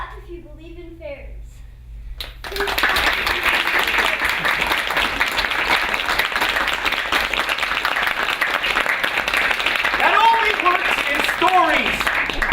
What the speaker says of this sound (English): Clap if you believe in fairies.